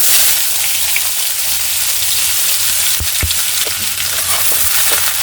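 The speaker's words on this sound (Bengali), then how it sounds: "আর এখানে তিনটে পেঁয়াজ কেটে রেখেছি ওইগুলো দিয়ে দেবো" Sliced onions hit hot oil already holding cumin seeds and bay leaves, giving a loud, dense crackling sizzle throughout, with a few sharp utensil knocks around the middle; no voices.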